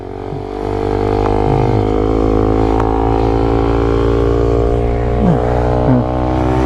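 A motorbike that had broken down, its engine running loud and close with a steady drone and a rattle, and pitch shifts as it revs near the end, with no clear talk.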